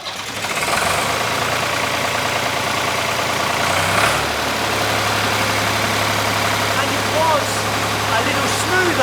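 A Fordson 4000 tractor engine cranks and fires, then settles into a steady, fairly loud diesel idle with a low knocking rumble, with a faint background voice.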